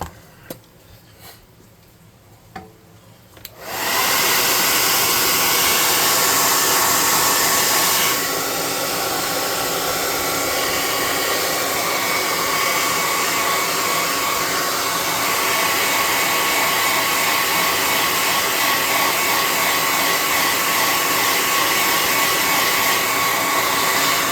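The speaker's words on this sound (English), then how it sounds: "I'm going to hit that with the hot air gun and dry it up a little bit" A hot air gun switches on after a few quiet seconds and blows paint dry on a modular city backdrop piece. It gives a loud, steady whooshing roar close by that holds for about twenty seconds.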